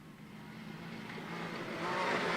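A Can-Am Maverick off-road race vehicle in a Baja rally stage from San Felipe, its engine droning steadily and swelling louder as it approaches, with no talk.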